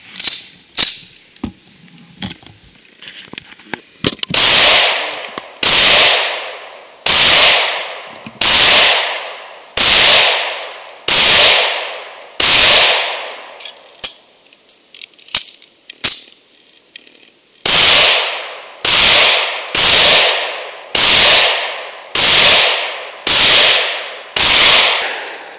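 A Coonan .357 Magnum pistol fires loud, sharp gunshots one after another at a steady pace, about fourteen rounds of mixed factory ammunition, each ringing out briefly with short pauses between, after a few quieter handling clicks at the start.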